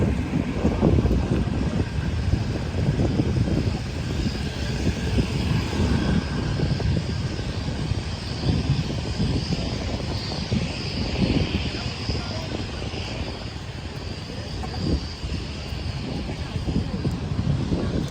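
Propeller engines of P-51 Mustang fighters at an airshow give a steady, distant roar with wind buffeting the microphone throughout, no breaks or talk.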